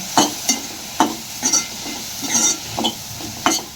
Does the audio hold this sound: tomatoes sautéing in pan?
yes